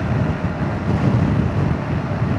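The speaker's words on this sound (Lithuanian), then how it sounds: "Nors yra biškelį vėjukas," Constant buffeting wind noise on a moving moped on a road, a steady loud low roar across the whole stretch with no talk.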